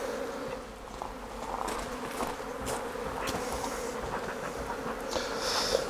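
Honey bees buzz densely at an open hive during frame work, a close, continuous drone with no voices over it.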